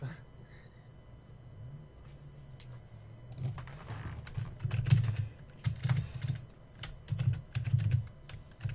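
Quiet, bursty clatter of keys on a computer keyboard, typed in uneven runs over a low background rumble, getting busier partway through with a voice faintly present.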